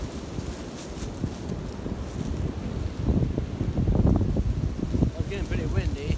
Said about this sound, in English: Pretty windy. Now it is. My teepee's blowing all around